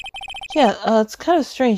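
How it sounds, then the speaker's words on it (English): A phone ringtone in the Phoenix Wright: Ace Attorney video game gives a quick series of short, evenly spaced electronic chirps, then stops as a person starts talking over the end. "I heard a phone ring just now."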